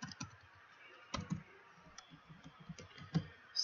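Sparse, quiet clicks of keys on a computer keyboard while code is being typed, irregular taps and a few firmer strikes close by over a low background hiss.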